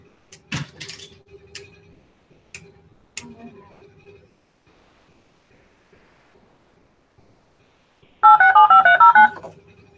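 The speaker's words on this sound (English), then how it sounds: "Let me try to call back in." Telephone keypad tones dial back into an internet call-in radio show, a quick burst of evenly spaced beeps near the end after some faint clicks and handling noise.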